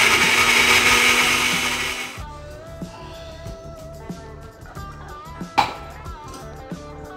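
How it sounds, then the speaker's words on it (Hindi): Mixer grinder pureeing two tomatoes: a loud, close whirring grind for about two seconds, then it stops, leaving quieter kitchen clatter and a few sharp knocks. "तो ये मैंने दो टमाटर लिए हैं और बस इसे पीस के रख दूँगी।"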